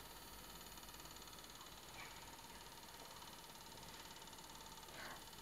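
Common rail piezo injector driven on a CR1900 injector tester, a steady faint electronic buzz and hum with a few brief ticking pulses, continuous and even throughout.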